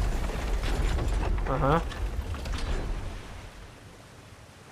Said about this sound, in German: Sieht aus, als lässt diese Maschine Erz in den Wasserdruck fallen.